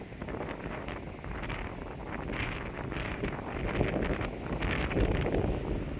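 Strong wind blows on an open mountain trail, buffeting the microphone with a continuous rough roar that gusts and swells, loud and close, with no talk.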